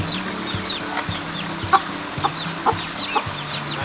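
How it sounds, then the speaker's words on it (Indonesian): Silkie chickens, an ornamental breed kept on a small farm, cluck in a steady scatter of soft, close calls with a few sharper peeps over a constant background hum. "Yang pertama di sini ada ayam kapas. Ini ayam hias ya."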